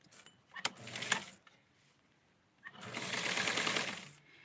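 A sewing machine stitches a Barbie 1970s-style wedding dress, first in short irregular bursts, then in one steadier run of about two seconds, close and moderately loud with no talking.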